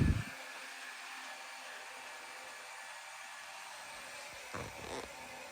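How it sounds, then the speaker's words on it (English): A single small Lego electric motor drives the central gear of a Lego chain gun, giving a steady high whirring hum that runs unbroken and close, with a short knock at the start and a few faint clatters near the end. "there are motors, actually a single motor that is spinning the gear in the middle, which is spinning each side"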